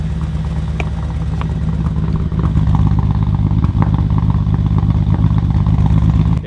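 BMW E46 engine with swapped ignition coils and white smoke, running with a loud, rough idle and a clattering, uneven beat that holds steady throughout.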